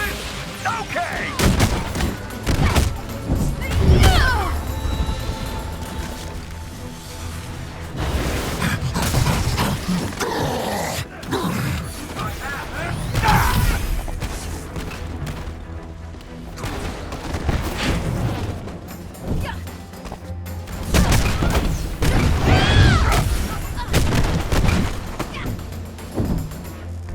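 Weapons fire in bursts during Marvel's Avengers combat, with loud gunshots, booms and crashing impacts piling up over a thick game soundtrack while voices speak intermittently throughout.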